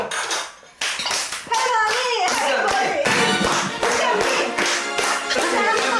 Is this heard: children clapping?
yes